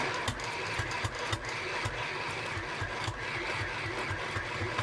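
A sewing machine stitches a seam in a steady, rapid mechanical whir with light repeating clatter, running continuously and fairly close with no voices.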